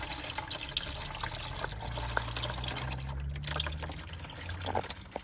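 Transmission fluid drips and trickles from the pan of a 2011 Chrysler Town & Country minivan, a steady close liquid patter with a low hum beneath it and no talking.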